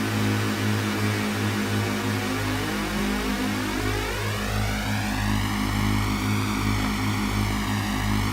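An engine held at full throttle and clutch in the Stormworks video game, overheating: a loud, continuous droning roar with a steady low hum and rising and falling whine tones, with no talking.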